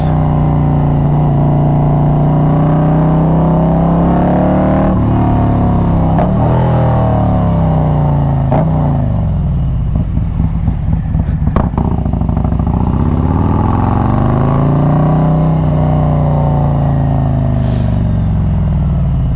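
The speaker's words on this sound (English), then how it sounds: "One of the baddest sounding Harleys on YouTube." A Harley-Davidson Road Glide motorcycle engine idles loud and close, its deep, crisp exhaust note swelling through repeated revs and crackling pops before settling back, with no talk over it.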